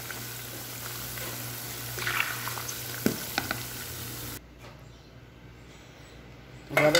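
Steady frying sizzle of chicken in fat in a pan, close and fairly quiet, with a few clinks partway through before the sizzle drops to a softer hiss.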